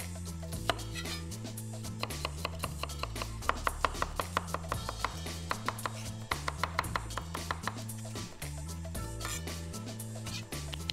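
A knife chops onion on a board while pork shoulder soup with kale and mushrooms is being prepared, giving quick, steady runs of crisp cutting strikes under continuous background music.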